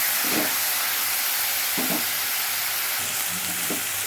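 Beans and lentils fry in an oily pan with a loud, constant sizzle and hiss, while a few low scraping stirs sound under the frying, without any voices.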